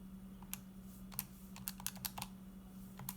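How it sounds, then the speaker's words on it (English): Numbers are tapped into a calculator as a quick, irregular run of light clicks, close and fairly quiet over a steady low hum. "which we can then type in our calculator"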